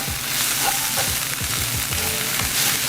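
Garlic fries with softened onions in a pan, a continuous close sizzle with scattered pops and crackles throughout and no voices.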